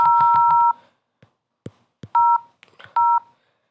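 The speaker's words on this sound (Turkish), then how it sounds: "Ortaya basınca da tıt tıt tıt diye ses çıkıyor." Keypad beep tones from a Nokia launcher on an Android phone: short, bright dual-tone beeps in a quick cluster, then scattered taps and two more separate beeps, crisp and close.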